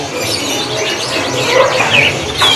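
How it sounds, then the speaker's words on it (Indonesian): Bright, rapid canary song with warbling trills over a steady background, a canary singing nearby in a bird shop. "dipancing burungnya sampai bunyi"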